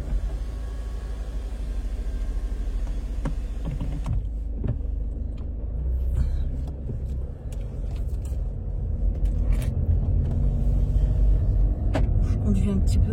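A car driving along with a steady low engine and road rumble close by inside the cabin, a window sliding partway through, while someone talks over it.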